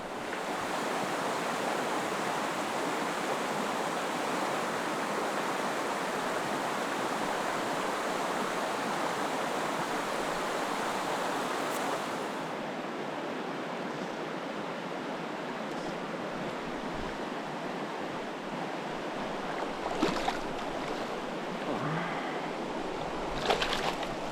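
Cold creek water in remote Idaho trout country rushes in a steady, soft wash, continuous and unbroken, with no voices over it.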